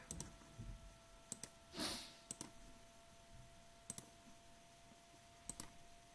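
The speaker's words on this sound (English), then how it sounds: "you click, lift your finger off the mouse, click, lift your finger off the mouse, click, click" A computer mouse gives sharp, faint clicks in small pairs and singles spread over a few seconds, with a soft rustle between them in a quiet room.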